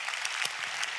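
A church congregation at a Sunday worship service claps together, a brief, dense burst of applause filling the room with no voices over it.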